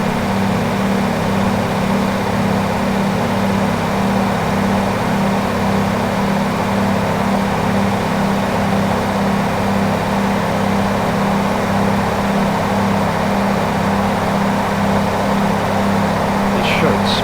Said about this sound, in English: They make a good sound, these engines. They're Cummins engines, I believe.